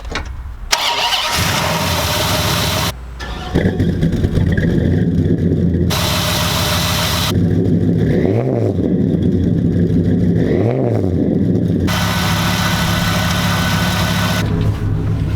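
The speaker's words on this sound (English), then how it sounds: "I hear the ignition, I heard a bunch of stuff click." A Viper-powered V10 truck engine cranks several times in bursts, catches and settles into a loud, steady idle with a couple of brief revs.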